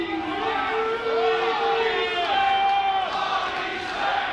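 A wrestling crowd at the Rec Room in Toronto cheers and chants loudly and steadily, with voices rising and falling across the hall, while commentators talk over it.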